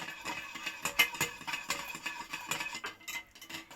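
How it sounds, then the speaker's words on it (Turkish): Melted sugar and water being stirred with a utensil in a bowl for a soufflé, a quick irregular series of close clinking scrapes and taps against the dish. "Güzelce karıştırıyorum."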